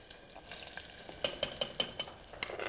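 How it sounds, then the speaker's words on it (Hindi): Stuffed bananas are sautéed in hot ghee with a soft sizzle and sharp, quick taps of a utensil against the pan in a loose rhythm. The sound is faint and fairly close. "इसके अंदर हम जो ये स्टफ़ किए हुए केले हैं उसको डाल के सौते कर लेंगे"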